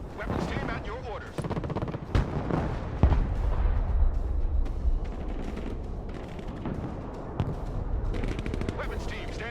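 Gunfire and artillery from the video game Broken Arrow rattle through, with dense bursts of small-arms and machine-gun fire and heavier booming blasts, loud and continuous, mixed with radio-style voices.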